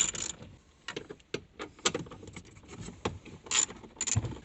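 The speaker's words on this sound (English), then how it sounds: "now we need the 10mm socket, and we're going to go ahead and remove that one there." A 10mm socket wrench turns out a bolt inside a Gen2 Prius dash during removal of the LCD screen and CD player. Close, quiet metallic clicks and ratcheting rattles come in short irregular bursts.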